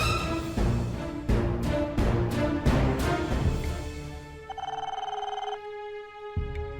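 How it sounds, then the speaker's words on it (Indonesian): A telephone rings in a home, a loud repeated bell pattern of several bursts, followed by a steadier electronic ringtone tone that stops before the end. "aku mau angkat telepon dulu sebentar"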